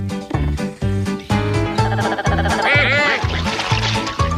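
Two cartoon ducks quack in a rapid, rhythmic series of loud, nasal calls, overlapping toward the end over a bright musical backing.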